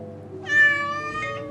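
A single clear cat meow, close and high-pitched, rises and then trails off over about a second against quiet background hum.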